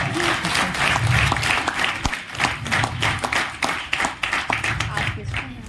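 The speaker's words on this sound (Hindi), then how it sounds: "जोरदार पहले ताली होना चाहिए" An audience at a direct-selling network meeting claps loudly, with bursts of applause and sharp individual claps that rise and fall, mixed with a voice talking over the crowd.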